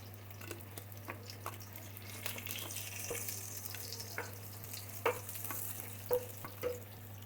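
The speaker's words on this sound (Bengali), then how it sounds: "মাছটা ভালো করে লাল লাল করে ভাজতে হবে" Fish fries in oil with lemon leaves, a soft, continuous sizzle punctuated by scattered scrapes and taps of a spatula stirring in the pan, fairly quiet and without speech.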